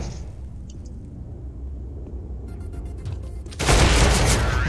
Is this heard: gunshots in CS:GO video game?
yes